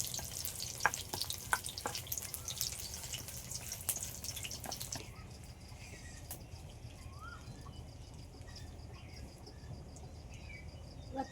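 Onion fritters coated in gram-flour batter with ginger, garlic and chili flakes fry in hot oil, a dense crackling hiss with scattered drips that softens abruptly midway into a quieter, steady bubbling.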